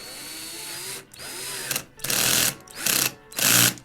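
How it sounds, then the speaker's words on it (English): A cordless drill set to its lowest torque setting whirs, then its clutch skips in repeated rattling bursts, three loud ratcheting pulses in a row at close range. "You can adjust your torque setting so that instead of going too hard, it'll just skip on you."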